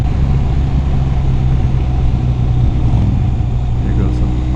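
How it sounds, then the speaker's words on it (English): A Harley-Davidson Sportster motorcycle passing on a twisty road, a steady loud engine rumble that stays strong and even throughout with no clear rise or fade. "There goes a Harley"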